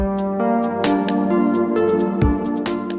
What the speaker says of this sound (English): I've got a factory sample set loaded in of a piano Rhodes sound